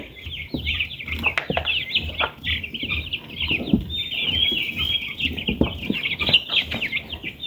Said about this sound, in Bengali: আপনারা দেখুন কিছু দেশি মুরগি আছে